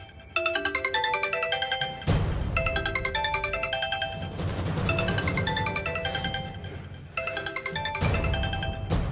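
A salesman's mobile phone rings with a bright melodic ringtone, a repeating chiming tune played loud and close in several bursts with brief gaps, no voices over it.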